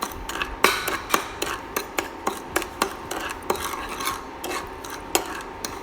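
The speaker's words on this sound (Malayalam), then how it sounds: "ഇത് ഇളക്കി കൊടുത്ത് നന്നായിട്ട് കാരമലൈസ് ആകുന്നത് വരെ വെയിറ്റ് ചെയ്യാം." Sugar caramelizing in a pan on low flame for butterscotch ice cream, stirred with a utensil that scrapes the pan in a steady rhythm of rasping strokes, close with no talk.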